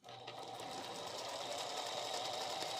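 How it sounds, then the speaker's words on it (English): A sewing machine stitches quilt pieces together, starting up abruptly and then running at a fast, continuous, even pace close by. It is heard alone, without speech. "I'm just going to sew it together"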